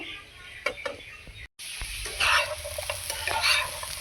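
Melted sugar sizzles and fries in a pan while a utensil stirs it, a steady close crackling hiss with scraping strokes, briefly cutting out for a moment before continuing louder.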